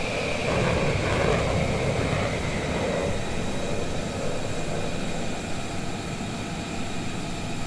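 An F-35 jet aircraft landing on a runway in the Cayman Islands, a broad steady roar of engine and rushing air that stays loud throughout and eases slightly toward the end, with no voices.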